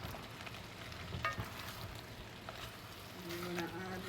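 A spoon stirs chicken, pumpkin and cannellini beans in a hot frying pot, giving a soft, quiet sizzle with scraping and stirring, and a voice speaks faintly underneath.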